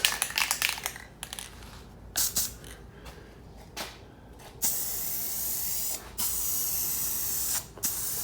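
Rust-Oleum spray paint hisses onto a rusty Jeep in several bursts, first short sharp sprays and then longer steady blasts, close and loud with brief gaps between them.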